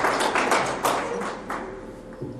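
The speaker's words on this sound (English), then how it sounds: "We're really applauding." Scattered clapping from a small audience at an anesthesiology workshop, a few uneven claps rising and thinning out over a couple of seconds, fairly close and moderately quiet.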